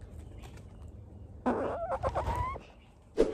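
Several backyard chickens cluck and squawk close by, first faint murmurs over a low background hum, then a louder burst of clucking with one sharp squawk at the end, no talking.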